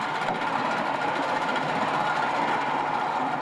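The port engine of an old 1970s catamaran project boat runs with a continuous, even mechanical hum and a fine rhythmic chatter, steady and close with no talking.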